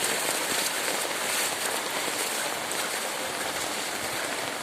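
Heavy rain pours down steadily onto water-covered ground, a dense, unbroken hiss of drops spattering across standing water close by.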